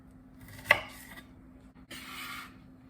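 A knife slices Brussels sprouts in half on a cutting board, a sharp crisp cut followed by a softer slicing rasp, close and quiet with no talk.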